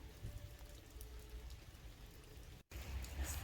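Spring rain in Germany falls in a steady, close hiss on a surface, with a brief dropout near the end before the patter resumes slightly louder.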